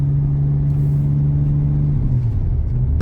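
A BMW 335i with the N54 engine and six-speed manual, pulling under throttle in first gear at night, gives a steady low drone that shifts pitch near the end, close and without talk.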